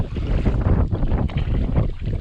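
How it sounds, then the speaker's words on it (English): Heavy wind roars and buffets against the microphone while kayaking on the River Witham, a loud continuous gusting rumble with no voices. "I do apologise if you can't hear me over this wind."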